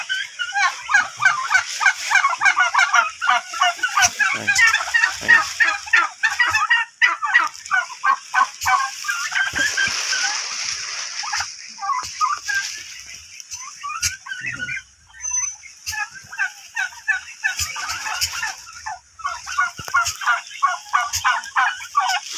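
Turkeys gobble repeatedly in rapid, overlapping bursts, loud and close, with a chorus of birds calling continuously throughout.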